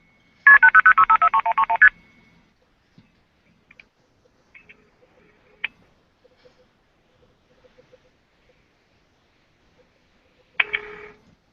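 A rapid string of about a dozen telephone dialing tones beeps out at the start while dialing into Project MF, followed by near silence with faint clicks and a short final burst of tone near the end.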